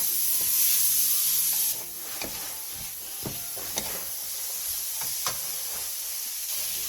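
Radish being stir-fried in a pan over medium-low heat for a Korean side dish, a steady soft sizzle and hiss with scattered scraping stirs and light clicks of a utensil, a louder high hiss fading in the first seconds.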